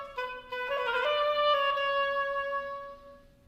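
An oboe plays an etude measure with a gruppetto turn figure, a clear reedy melodic line of several connected notes moving through a quick ornament and settling on a sustained tone, solo and close with no talking.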